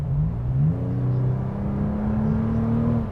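Toyota TRD Pro SUV, a 2020 Sequoia, accelerating hard at full throttle in drive, a steady loud engine roar with rising harmonic tones building over about three seconds, close and continuous with no talk.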